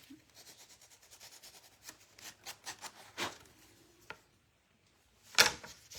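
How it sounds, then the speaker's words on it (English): Short, irregular rubbing strokes of sandpaper on a small wooden Christmas ornament as its corners are rounded, close and fairly quiet, with a couple of sharper knocks and a louder scrape near the end. "I want to sand down a little more. I want to round this a tad more."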